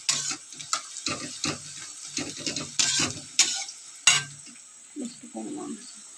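Onions fry in a pan at home and are stirred in short scraping strokes, with a soft sizzle under intermittent quiet talk.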